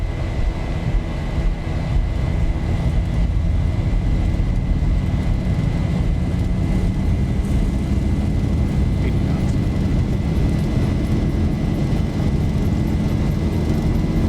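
Airliner engines spool to takeoff thrust in the X-Plane 11 flight simulator, a loud steady roar with a rumbling low end and a faint whine holding throughout without a break.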